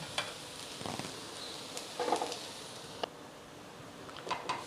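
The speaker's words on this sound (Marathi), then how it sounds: "आता यामध्ये थोडं थोडं तेल सोडून परत एक 2 ते 3 मिनटासाठी झाकण ठेवून द्यायचे" Appe dumplings frying in a little oil inside a covered appe pan, a soft steady sizzle with scattered faint crackles and pops, heard close and alone at low level.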